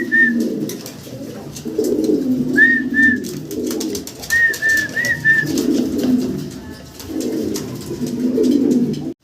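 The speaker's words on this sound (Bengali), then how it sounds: "আমরা দেখতেছি ভাইয়ের কাছে শর্ট ফেস কবুতর আছে এখানে, অ্যালমন্ড আর হোয়াইট" Short face pigeons, almond and white, coo in low repeated bursts at close range, with faint higher whistles and chirps from other birds in the background.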